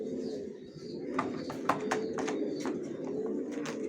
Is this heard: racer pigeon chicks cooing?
yes